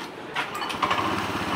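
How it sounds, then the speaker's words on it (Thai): Engine of a Honda Click 125i scooter, started by remote while parked on its stand, comes to a quick sputtering start and then settles into a steady, light, high-pitched idle, heard close and alone. "ลูกค้าเอาคลิก 125i มาติดคันนะครับ มาสั่งสตาร์ทที่รีโมทให้ดูนะครับ"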